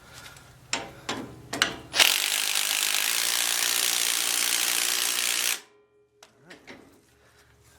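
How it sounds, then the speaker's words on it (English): A loud, steady ratchet wrench clicks rapidly for several seconds while loosening a part on a trashed John Deere X300 riding mower, preceded and followed by scattered clunks of tools and metal. "Okay, so let's pop this wrench in there."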